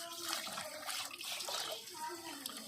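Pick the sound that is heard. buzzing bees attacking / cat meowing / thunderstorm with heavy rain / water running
water running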